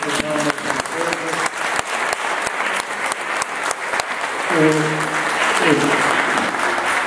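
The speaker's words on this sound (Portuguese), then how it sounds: "Uma salva de palmas" An evening crowd at a school gathering applauds the arriving education secretary. The clapping runs throughout at a steady level, with voices calling and cheering mixed in and swelling near the end.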